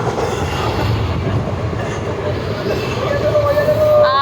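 A moving passenger train heard from inside its compartment gives a steady, loud rumble with rattling wagons and a thin wheel squeal rising near the end, with faint voices underneath.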